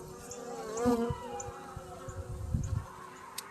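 Honeybees buzz around an open hive close by, a wavering, droning hum rising and falling as individual bees pass near, with some faint rustling underneath.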